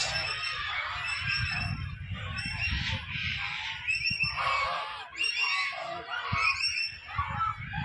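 A goose in a zoo enclosure gives repeated loud honks and harsh calls, close by and overlapping, with other birds faintly in the background.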